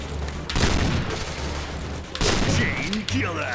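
Gunfire in the online shooter Point Blank, with dense bursts of shots and booms that are loud and continuous, and a voice talks briefly over them.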